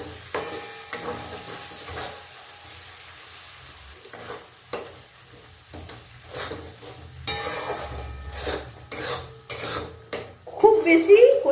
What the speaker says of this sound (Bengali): এবার সব কিছুকে একসঙ্গে মশলা আবার আরেকবার কষে নিচ্ছি।